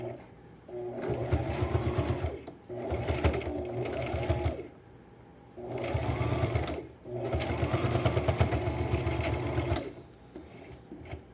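A sewing machine stitches a fabric headband in four loud, close bursts of rapid mechanical whirring, separated by brief pauses.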